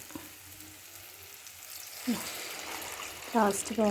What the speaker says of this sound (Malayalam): ഇനി നമുക്ക് ഇതിനകത്തേക്ക് ലാസ്റ്റ് പാൽ ഒഴിച്ചു കൊടുക്കാം